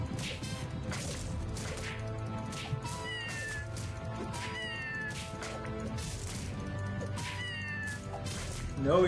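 Cats meowing repeatedly in the video game Scribblenauts Unmasked, a series of short rising cries scattered over busy game music and sound effects, with a brief louder burst near the end.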